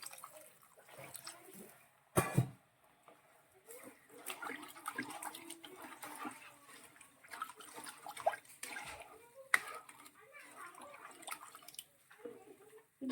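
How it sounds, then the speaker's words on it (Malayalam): Water poured into a cooking pot for a backwater snakehead fish curry, quiet splashing and trickling with brief louder gushes and drips, heard close and alone. "നമുക്കിതിലേക്ക് ആവശ്യത്തിനുള്ള വെള്ളം ഒഴിച്ച് തിളപ്പിച്ചെടുക്കാം"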